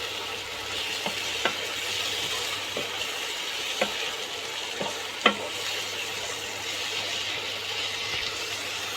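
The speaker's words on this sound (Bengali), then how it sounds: "হালকা করে আমি সমস্ত মশলা নেড়ে নিয়েছি" Spices for butter chicken, including Kashmiri red chilli powder, sizzle steadily in a pan while a spoon scrapes and taps the pan now and then, with a few sharper clicks over the constant frying hiss.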